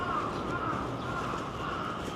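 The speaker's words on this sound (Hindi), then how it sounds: "यहाँ के कौवे लोग भी पेट से बात करते हैं, क्वां क्वां क्वां।" Crows caw in Osaka, a hoarse, low-pitched calling that carries over steady outdoor city ambience, moderately distant and without talk.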